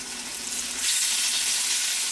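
Capers, tomatoes and crushed red pepper flakes fry in a pan with a steady, fairly loud sizzle that rises slightly partway through as the mixture is stirred, with no talking.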